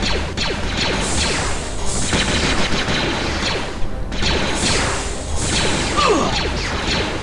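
Stormtrooper blasters fire in Star Wars Jedi Knight 2: Jedi Outcast as a steady, dense barrage of overlapping shots and crashes. The volley runs loud throughout with a brief lull near the middle.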